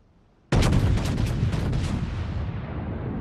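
A battleship's main guns fire a full salvo in World of Warships, opening with a sudden loud boom that rolls into a long, sustained rumble with no fading gap, heard alone without any voices.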